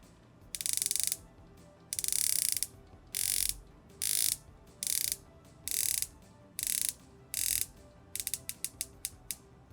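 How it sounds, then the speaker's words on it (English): A Christopher Ward titanium dive watch bezel is turned in a series of short bursts of crisp, precise ratcheting clicks, close and clear, ending with several quick single clicks. "one of the best bezel actions that I've experienced on a titanium watch"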